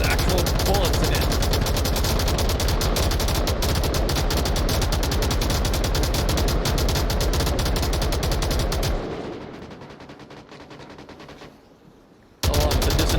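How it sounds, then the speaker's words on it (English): Sustained automatic gunfire in the VR shooter Onward, with a distant PKM machine gun among dense rapid bursts, loud and continuous before fading to quieter sparse shots, then cutting back in abruptly. "Along with the distant PKM, fire to the distance."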